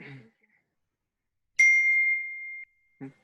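A phone gives one bright notification ding that rings out for about a second during a workshop meeting, framed by brief snatches of speech before and after.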